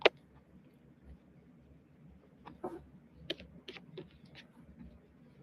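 Keys on a computer keyboard are tapped in short, uneven bursts after one sharp opening click, quiet and close in a still room, with no one speaking.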